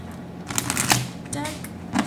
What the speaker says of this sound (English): So I'm going to pull an oracle card from the Vision of the Muse